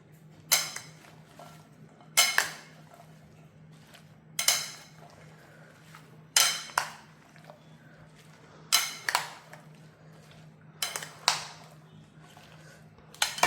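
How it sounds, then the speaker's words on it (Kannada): Green salad of black chana and avocado being mixed in a bowl, heard as about nine separate clinking strokes of a spoon against the bowl, spaced a second or two apart, close and crisp, with no speech. "ಈಗ ಇದನ್ನು ಒಂದು ಚೆನ್ನಾಗಿ ಮಿಕ್ಸ್ ಮಾಡೋಣ."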